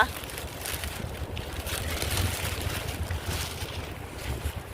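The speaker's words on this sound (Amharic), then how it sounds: "ንፋሱ ተረጋጋ" Strong wind roars as steady broadband buffeting against the microphone, continuous and fairly faint overall, with gusty surges and no clear speech.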